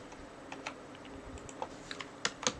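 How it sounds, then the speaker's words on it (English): Quiet, irregular typing on a computer keyboard switched to Thai-language input, with scattered soft key clicks and a few firmer taps and shift-key presses against low room hiss. "I have to put the keyboard into Thai language, and I have to hold down shift and press number 6"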